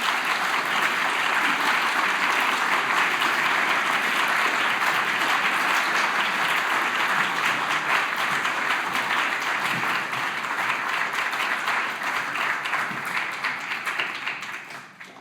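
An award ceremony audience in a theatre gives the winner sustained applause, a full, dense clapping that holds steady for a long stretch before thinning and fading out at the end.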